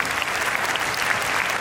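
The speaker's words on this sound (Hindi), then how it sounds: "तो इस बच्चे के लिए जोरदार तालियां" An audience gives loud, steady applause for someone speaker at an Independence Day celebration, with thick, continuous clapping throughout.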